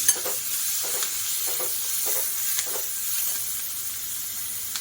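Onion and tomato with turmeric soften in a frying pan, giving a steady close sizzle and hiss with a few soft stirring scrapes and taps; no one speaks.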